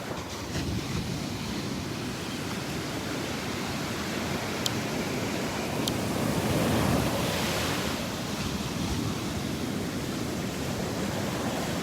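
Ocean waves break and wash steadily along a beach in Naples, Florida, a continuous surf roar with light wind buffeting, with no voices.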